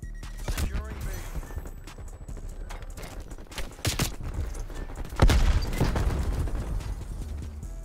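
Gunfire in Call of Duty: Cold War crackles in sharp, uneven bursts, with one loud close shot standing out midway and other shots in scattered clusters, while a voice talks over parts of the action.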